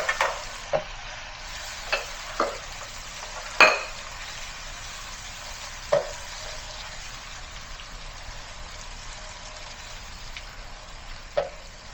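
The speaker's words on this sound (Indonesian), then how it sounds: "kita masukkan cabai merah, cabai hijau besar yang digiling kasar" Coarsely ground red and green chilies fry quietly in a pan for a quail egg and salted fish stir-fry, a soft steady sizzle broken by a handful of sharp clinks from stirring.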